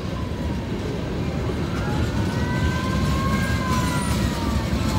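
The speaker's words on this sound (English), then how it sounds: "I think the fire department's gonna have to wait for this train." A CSX freight train rumbles past loudly and continuously at a crossing while a fire truck siren wails faintly in the distance, rising and falling beneath the noise.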